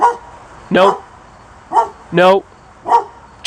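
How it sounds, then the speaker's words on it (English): A dog barks in four short bursts spaced across a few seconds, fairly close and loud, while a person speaks briefly between the barks. "That's my dog."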